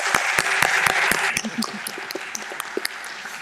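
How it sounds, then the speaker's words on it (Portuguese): Applause from a symposium audience for a panel on philosophy and artificial intelligence: dense, steady clapping that thins into scattered separate claps, with a voice speaking over part of it. "Uma salva de palmas para o nosso painel."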